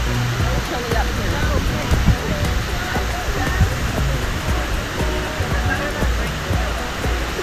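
Manoa Falls on Oahu pours in a steady, loud roar of falling water on a rainy trail, constant broadband rushing with no break.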